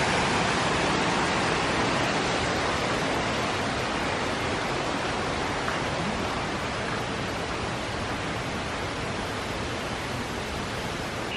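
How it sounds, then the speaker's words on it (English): A waterfall pours into the lazy river at the Aulani Disney resort pool, making a steady, even rushing hiss that continues unbroken throughout. "Go around here, it's got a waterfall."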